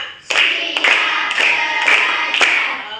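A class of children claps in unison to a count, five loud, sharp group claps spaced about half a second apart, close and clear with no talk.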